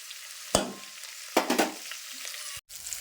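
Spinach and peanut palya frying in a pan in a new kitchen, an even close sizzle punctuated by a few sharp spatula stirs and scrapes, with no talking.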